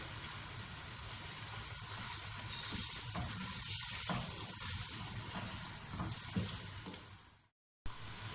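Mutton pieces frying in hot oil in a pot for Dagi aloo gosht, giving a steady, close, hissing sizzle with a bubbling undertone that holds evenly before cutting off abruptly near the end.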